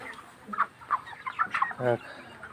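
Broiler chickens cluck in scattered short bursts, ending in a louder drawn-out cluck, close by with no other sounds.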